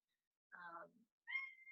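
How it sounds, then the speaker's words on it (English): A house cat meows indoors, two short close meows separated by a brief pause, fairly quiet and alone in an otherwise silent room. "Sorry if you can hear my cat."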